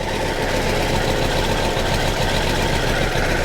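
A Kawasaki GTR1000 motorcycle engine idling nearby, a loud, steady, even rumble that holds without change throughout.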